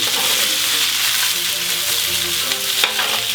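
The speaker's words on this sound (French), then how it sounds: "Et on va les faire suer jusqu'à une légère coloration. Bien sûr, il y aura beaucoup de tourne et retourne." Vegetables sweat and sizzle loudly in a pan while being stirred, a dense, unbroken frying hiss heard up close with a faint scrape near the end.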